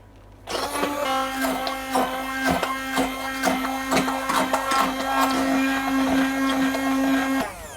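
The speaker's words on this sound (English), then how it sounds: "I have a handheld blender, and essentially this helps just to whiz up those pumpkins" A handheld blender whirs loudly and steadily for several seconds, with a sustained motor hum and rattling, choppy bursts as it purees thick cooked pumpkin.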